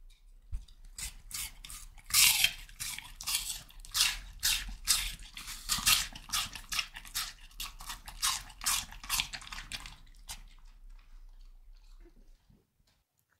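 A dog crunches and chews small pieces of apple, producing a long run of close, crisp bites and munching that fades out near the end.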